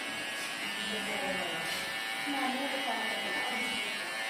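An electric hair clipper shaves a head with a continuous close buzz, while people talk over it throughout.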